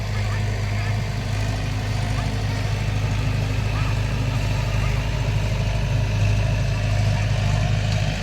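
A tractor engine plows a paddy field in rural Chhattisgarh with a loud, close, continuous diesel rumble that holds steady throughout.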